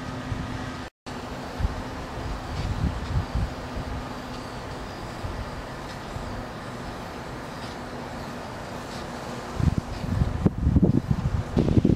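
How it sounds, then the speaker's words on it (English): Strong wind blows outdoors with a constant rushing roar and buffeting gusts against the microphone, growing rougher toward the end. "that wind is blowing"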